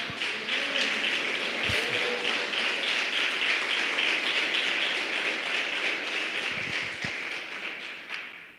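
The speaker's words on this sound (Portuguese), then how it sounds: "Dá uma salva de palmas para Jesus." A church congregation applauds during a live worship service, a dense, steady wash of many hands clapping that holds loud and even for several seconds before tapering slightly near the end.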